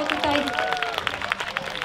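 Applause from an audience at a children's song concert, a steady patter of clapping under a loud voice talking over it, with occasional sharper individual claps.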